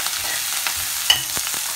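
Curry leaves crackle and hiss in a hot pan as they crisp up, a bright close sizzle with a few sharp pops and scraping stir clicks, no voices.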